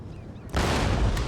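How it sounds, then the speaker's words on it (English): Cannon fire in the Empire: Total War battle game, a sudden loud booming burst after a quiet moment, followed by a sustained rumbling roar of fire and impact. "they're still using the cannons"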